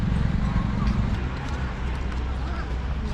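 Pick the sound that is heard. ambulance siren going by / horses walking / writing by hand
horses walking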